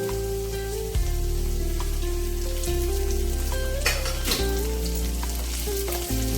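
Onion frying in oil with curry leaves and green chilies, a loud, continuous crackling sizzle like rain on a surface, with occasional stirring scrapes and no talk.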